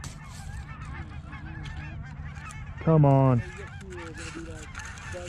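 Canada-type geese honk during a goose hunt, a loud close burst of layered honks from several birds in the middle, set against quieter distant calling and a brief spoken word from a hunter.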